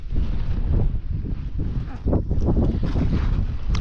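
Bitter wind roars across a winter mountain summit on Boulder Mountain, a loud, continuous gusty buffeting against the microphone with no voices.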